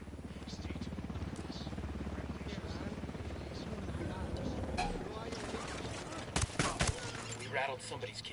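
A helicopter in Ghost Recon Wildlands throbs as a low, steady rotor drone under someone talking, while bursts of gunfire crack near the end.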